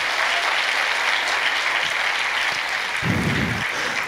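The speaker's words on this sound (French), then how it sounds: "Applaudissez Saint Paul." Festival audience at a Christian praise event (Amen-Toi 2019) applauding steadily, a dense continuous wash of clapping that holds evenly throughout, with a brief low thump near the end.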